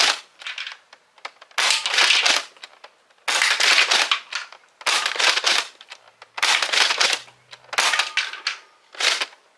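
A Dart Zone Max Dictator foam-dart blaster is slam fired in a series of about seven sharp, rattling bursts, each a quick cluster of clacks separated by short pauses, loud and close.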